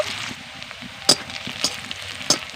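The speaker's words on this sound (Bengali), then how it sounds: "এবার দিয়ে দিচ্ছি কেটে রাখা পেঁয়াজ পেঁয়াজকে আমি ভালো করে ভেজে নেব" Chopped onions frying in white oil in a pan, giving a steady close sizzle with a few sharp clinks of a utensil against the pan.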